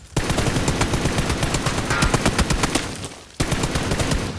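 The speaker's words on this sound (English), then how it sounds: "this guy shooting at us outside this third party" Rapid machine-gun bursts in a video game shooter, loud and close, a dense stream of shots with a brief pause near the end before another burst starts.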